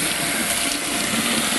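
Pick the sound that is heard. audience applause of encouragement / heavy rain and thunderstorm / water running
water running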